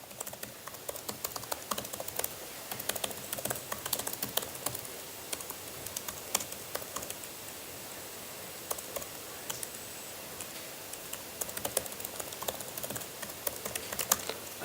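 Code is typed on a computer keyboard as a steady patter of light, fast key clicks. The sound stays fairly soft and close and runs continuously with small irregular gaps.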